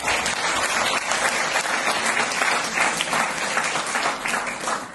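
A large audience bursts into loud, sustained applause at a marketing company's stage event, dense clapping filling the hall evenly for the whole stretch with no voices over it.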